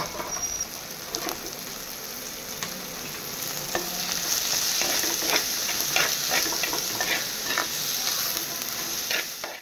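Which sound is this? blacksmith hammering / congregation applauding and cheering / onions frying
onions frying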